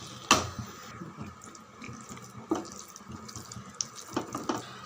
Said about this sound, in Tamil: அந்த ஜார்லேயே இந்த தண்ணி அப்படியே சேர்த்துக்கலாம்.